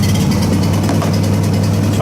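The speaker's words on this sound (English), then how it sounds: "So this thing has been sitting here, so we're gonna do a nice cold start." A mini excavator engine cold-starting after sitting idle, a steady low droning idle with a strong low hum, loud and close throughout.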